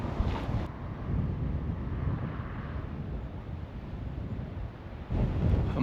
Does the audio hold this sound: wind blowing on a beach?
yes